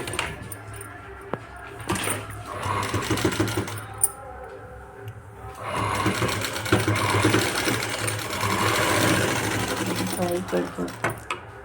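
A sewing machine stitches a puff sleeve, its rapid mechanical whir coming in close, sustained runs between brief pauses, with a voice speaking over parts of it.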